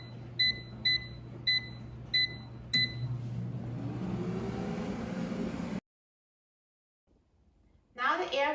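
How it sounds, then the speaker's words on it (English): An air fryer cooking eggs at 375 degrees Fahrenheit begins with a run of high electronic beeps, then hums steadily under a fan whoosh before cutting off abruptly, followed by a pause and a burst of nearby sound. "Now the air fryer is done cooking"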